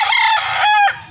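A rooster crows loudly and close by, a single drawn-out call in rising and falling segments, at a gamefowl farm in northern Cebu, Consolacion.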